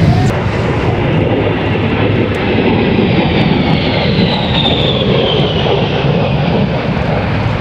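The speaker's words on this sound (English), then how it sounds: "Captain Shetterly positioning the A-10 for a pass on the show line" An A-10 Thunderbolt II jet lines up for a pass at the Canadian International Air Show, its loud, steady engine roar filling the air continuously, with a faint whine slowly shifting in pitch as it moves past.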